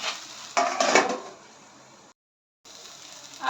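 A spoon scrapes and clatters in a pan as sevai upma is stirred with coriander, a short burst of close metallic stirring that fades into quiet sizzling, then a brief silence.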